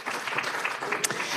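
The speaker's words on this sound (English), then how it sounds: "Yes, please give her a round of applause." An audience applauds a presenter at a Medicare population health talk, a brief burst of dense, even clapping from many hands.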